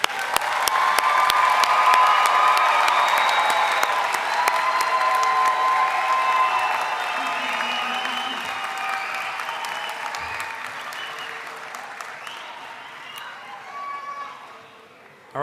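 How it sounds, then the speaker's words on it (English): Sustained applause from a graduation ceremony audience, loud and dense at first, then slowly thinning and fading toward the end, with no talk over it. "let's do one more round of applause."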